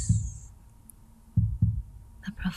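A low, soft heartbeat sound effect for a meditation track, heard as a double thump near the start and two more close together midway. The thumps sit over a faint steady hum with an airy high tone.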